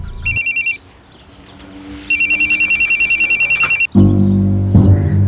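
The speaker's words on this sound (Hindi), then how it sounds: "हाँ, लेकिन जब मैं लोडिंग कर रहा था तब अचानक बलराम जी का फोन बजा।" A phone rings in rapid trilling bursts, two separate ring cycles with a pause between, followed by a low hum.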